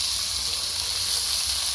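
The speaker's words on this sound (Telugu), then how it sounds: "మనం ఆనియన్స్ ఫ్రై చేసుకోవడమే" Chopped onions fry in a pan for an egg curry, giving a steady, close sizzling hiss that runs evenly throughout with no talk over it.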